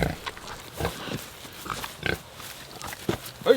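Farm pigs grunt and snort in short, irregular bursts close by, a few soft oinks repeating over a quiet outdoor background.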